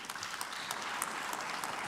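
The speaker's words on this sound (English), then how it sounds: "they are yours for the applause." Audience applause at a conference in the main room of the 3i Africa Summit 2024, a dense steady wash of many hands clapping for nearly two seconds.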